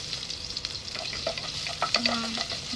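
Chopped ginger sizzles and crackles in hot oil in a home kitchen pan while being stirred, a steady close frying hiss with scraping stir strokes and no talk.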